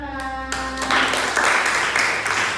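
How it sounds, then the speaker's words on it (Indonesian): A classroom of students claps after a presentation, a burst of many hands beginning about a second in and holding steady, following a brief tonal sound at the start. "Terima kasih, tepuk tangan."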